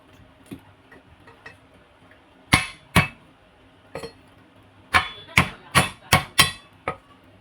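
A knife chops an onion on a cutting board in sharp, close chops, a few spaced out, then a quick run of five or six in a row.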